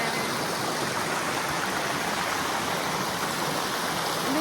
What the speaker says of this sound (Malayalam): ഇതാണ് ഞാൻ പറഞ്ഞ അരുവി